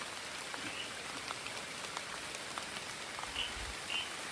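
Night rain falling steadily outdoors, a soft even patter of drops with occasional distinct splashes, quiet and continuous with no voices.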